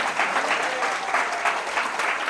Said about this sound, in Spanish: Alguien da un aplauso en esta noche al Señor